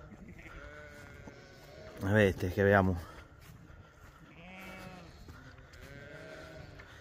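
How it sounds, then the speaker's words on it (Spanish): Sheep bleat loudly at a lambing pen, a couple of strong, close calls in quick succession, with fainter bleats later and someone talking quietly over the scene. "Están cansadas las ovejas"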